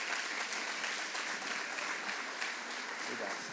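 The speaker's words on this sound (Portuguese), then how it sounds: "Vamos aplaudir esses irmãos maravilhosos." A church congregation claps together in a steady, dense wash of applause during a celebration service, evenly loud throughout with no voices standing out.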